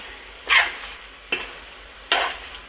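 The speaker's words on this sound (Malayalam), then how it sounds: "ഇനി ഇത് നന്നായിട്ട് ഇളക്കി കൊടുക്കണം" Fried beef is stirred with fried coconut pieces in a pan: three distinct, close scraping strokes of a spoon over a faint sizzle, with no voices.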